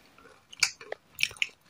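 Crunching bites into cheese-flavored long potato chips, close and crisp: a few sharp snaps and crackles in quick succession, heard alone without talk.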